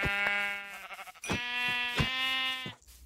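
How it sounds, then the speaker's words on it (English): Sheep bleat in Minecraft, three long wavering bleats in quick succession, fairly close and clear, with no speech over them. "Let's kill the sheep."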